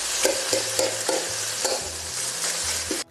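Butter chicken gravy stirred in a hot pan, a steady sizzle punctuated by a rhythmic series of spatula scrapes and taps, close and clear, ending abruptly.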